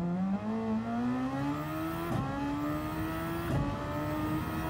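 A Super Formula open-wheel race car in the Gazoo Racing GT Cup racing game revs up through its gears. The loud, close engine whine climbs steadily, and two quick upshifts break the rising pitch.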